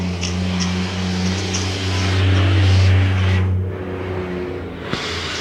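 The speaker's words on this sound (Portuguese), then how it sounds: "Essas rodas que vocês estão ouvindo é de um caminhão que está passando por aqui por perto da minha casa." Heavy truck rolling past near a house, a deep rumble of engine and tyres that swells in the middle and then fades as it moves away.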